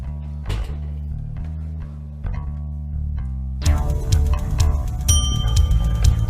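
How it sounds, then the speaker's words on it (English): A bell rings to mark the start of a new song as music begins, the ringing sitting against steady musical tones that then swell into a louder, fuller track. "Ring the bell when a new song starts."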